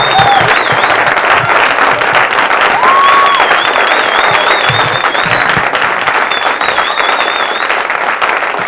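A comedy club audience gives loud, sustained applause welcoming comedian Barry Crimmins to the stage, dense clapping with a few whistles cutting through, steady and close throughout.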